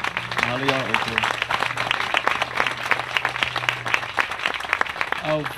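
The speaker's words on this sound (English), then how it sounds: "How about a round of applause for our panel?" Audience applause for a panel after a discussion event, steady clapping throughout with a voice speaking over it at the start and again near the end.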